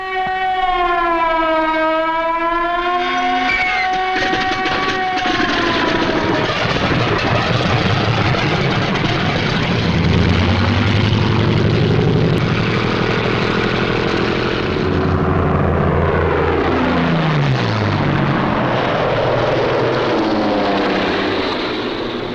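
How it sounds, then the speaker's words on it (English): Propeller engines of WWII Messerschmitt 109 and Focke-Wulf 190 fighters roar continuously and loudly, with a rising and falling drone and pitch sweeps as aircraft pass, sustained throughout with no talk. "This captured film shows how quickly the 109s and the Focke-Wulf 190s got into action."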